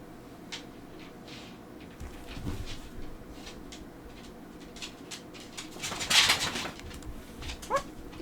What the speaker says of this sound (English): If you're hearing puppy sounds